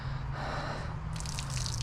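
Water drips and trickles from a microfiber towel being wrung out after washing a 2003 Honda S2000, a close, steady splatter with a low hum underneath and brighter spattering toward the end.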